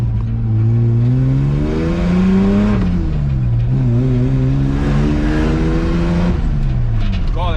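Drift car engine fitted with a new, slightly rattly exhaust revs hard and loud close by, its pitch climbing and falling through a couple of sustained rising sweeps, with speech-like sounds intermittently riding over the engine.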